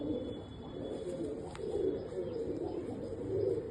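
Andhra pigeons cooing softly in a loft, a low continuous murmur of coos with faint bird chatter, steady and close.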